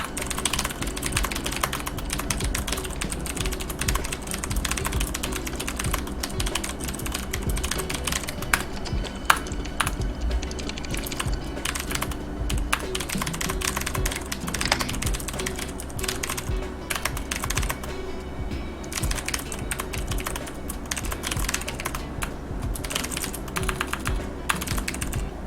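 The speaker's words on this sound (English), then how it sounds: "So let me type that out." Continuous rapid typing on a computer keyboard during a game session, dense clattering keystrokes close up and steady for the whole stretch, with no talking over them.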